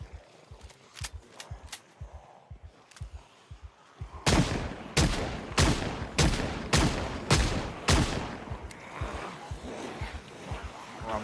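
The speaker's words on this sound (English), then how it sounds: "Some early morning shooting going on" Gunfire rings out in the zombie survival game Project Zomboid. Faint, quick pops come first, then a burst of loud, sharp shots roughly every half second, close and echoing, before trailing into scattered softer reports.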